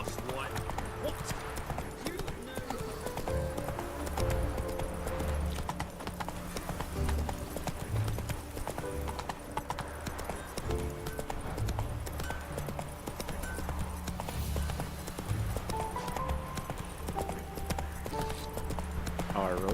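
Horse hooves clip-clop at a galloping pace in The Witcher 3: Wild Hunt video game, a steady rhythmic pounding under game music, with voices talking over the ride.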